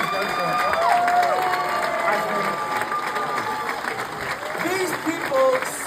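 Theatre audience applauding the Moulin Rouge musical cast after a cast change, a dense, sustained wash of clapping from a large crowd with cheers and whoops rising over it, fairly loud throughout.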